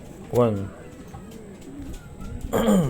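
Racing pigeons coo at the loft after a 250 km derby race: two close, throaty coos with a quiet gap between them, and someone speaks nearby.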